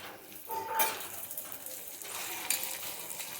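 A lachha paratha is laid into an oiled pan and fries, a steady crackling sizzle with a brief metallic clink of utensils against the pan, close and without voices.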